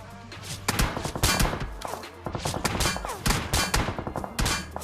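Sustained bursts of gunfire in PUBG Mobile sprayed at a BRDM armored vehicle, with dense, rapid shots and impacts coming in overlapping waves, loud and close throughout.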